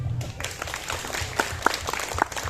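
An audience at an anniversary gathering claps in a fairly light, scattered round, a few sharper individual claps standing out, with a voice briefly audible under it.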